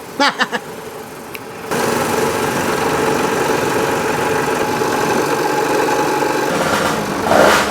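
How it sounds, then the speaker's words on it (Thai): A boring machine makes a first pass into an engine crankcase, a steady loud mechanical whir of motor and cutting that runs without pause after a few brief knocks at the start. "หลังจากหาระยะแล้วเราก็ คว้าลงไปหนึ่งรอบก่อนเพื่อ จะหา ว่ามันลึกได้เท่าไหร่"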